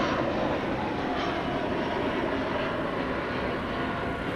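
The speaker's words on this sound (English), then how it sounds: "It's an Airbus A320." A Delta Airbus A320 arriving from Los Angeles at DFW airport at night gives off a steady, broad jet roar, moderately loud and unbroken for a few seconds.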